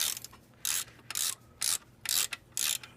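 A loose exhaust bolt on a Yamaha XSR900 motorcycle being spun with a ratchet, giving short clicking bursts about every half second in a steady rhythm, close and fairly quiet with no talking.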